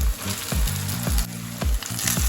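Rice being stirred into mixed vegetables frying in a pan, with a steady sizzle broken by repeated scraping strokes of a spatula against the pan, close and fairly quiet.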